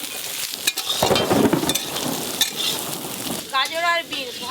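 Chopped ginger and garlic fry in a pan with vegetables, giving a steady crackling sizzle, moderately loud and close, broken by a few sharp clatters of a utensil stirring against the pan.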